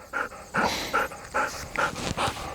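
A bird dog pants during a training session, giving quick, rhythmic breaths in about six close, clear bursts with short pauses between them.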